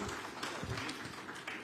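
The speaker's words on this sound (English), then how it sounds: "Can we give the team another round of applause, ladies and gentlemen, to mark this launch?" An audience at a launch event for local government public-private partnerships gives a round of applause, a steady, dense wash of clapping from many hands, fairly near, with no talking over it.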